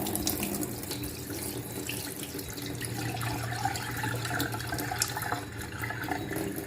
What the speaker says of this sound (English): pour this water off the mackerel